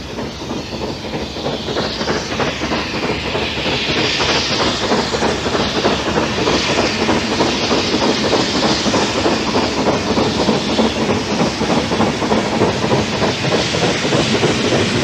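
LMS Somerset and Dorset Class 7F 2-8-0 steam locomotive 53809 works steadily along, with rhythmic chuffing exhaust beats, hissing steam and rolling wheel clatter, loud and continuous throughout.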